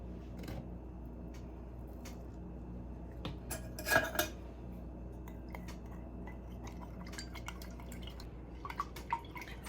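Metal scoop scraping and a spoon clinking against a glass as unflavored collagen peptide powder is stirred into cold juice, a few light clinks and taps rising midway over a steady low hum, no talking.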